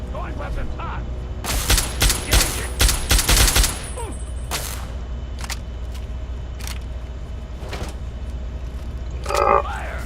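Weapons fire in the Fallout 3 video game: a dense burst of rapid shots, then several isolated single cracks spaced seconds apart, with a brief voice near the end.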